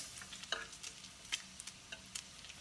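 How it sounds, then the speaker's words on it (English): Bacon frying in a pan just after being flipped, a quiet steady sizzle with scattered small pops and crackles close by, no voices. "So I'm gonna flip the bacon"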